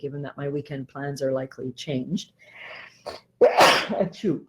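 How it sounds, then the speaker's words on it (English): A single loud, sharp human sneeze erupts near the end, set off by a dog hair tickling the nose, right after a man's calm speech. "That's a dog hair tickling my nose sneeze."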